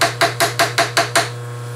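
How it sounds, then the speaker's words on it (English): Seven evenly spaced plastic hammer taps on a finished metal edge, sharp and close, with a steady hum underneath, in a machining workshop. "So let's just hammer it down"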